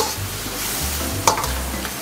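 Seafood chow mein noodles are stirred and tossed in a hot pan, a steady sizzle broken by a sharp scrape or clink of the utensil.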